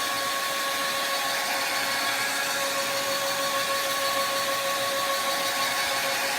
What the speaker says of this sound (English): let's hit this with the blow dryer and we'll do another coat